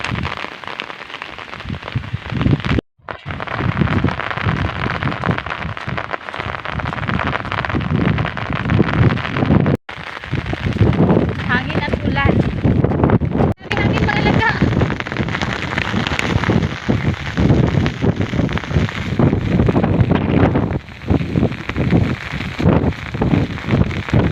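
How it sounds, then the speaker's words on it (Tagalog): Strong wind buffets and roars continuously, with gusty surges and rushing noise, mixed with what sounds like rain pattering close by. "parang itulak na talaga ako ng hangin pa uwi sa bahay"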